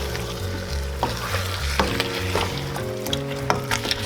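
Lamb and potatoes for a Habesha alicha stew stirred in a pot, a steady close sizzle with scraping spoon strokes recurring about every second over a low background hum.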